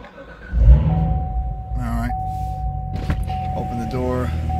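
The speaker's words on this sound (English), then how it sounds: "I'm gonna start the car up" A 2017 Corvette Z06 engine cranks with a sudden low rumble, then settles into a steady idle close by, with a sustained chime tone and brief mechanical whirs over it while someone speaks.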